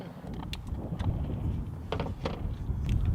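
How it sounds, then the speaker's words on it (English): Wind buffets an outdoor microphone during a road trip, a constant low roaring rumble with gusty thumps and crackles throughout, fairly loud and alone. "Apologise for the wind."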